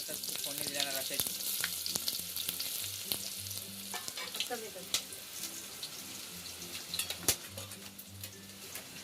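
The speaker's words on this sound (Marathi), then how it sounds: "इकडे आजी आता फोडणी देणार असायची" Spices crackle and sizzle in hot oil, tempered for a village-style country chicken curry, a dense close frying hiss with scattered pops and stirring clinks, a few faint voices and low background hum beneath.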